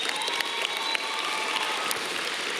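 Audience applause fills an agricultural youth convention hall, a steady wash of many hands clapping with faint cheers, sustained and even throughout at moderate distance.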